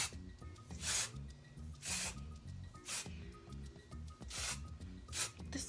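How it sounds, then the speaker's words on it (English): Frederic Fekkai The One and Then Some dry texture spray misted onto hair in several short hissing bursts, close and quiet, each spray a second or so long with soft pauses between. "and just spray it in there a little bit."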